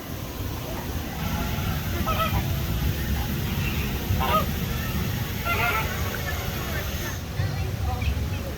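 Flamingos at SeaWorld Orlando honk in a steady, goose-like chorus of overlapping calls that rises and falls amid outdoor crowd noise, with people talking nearby.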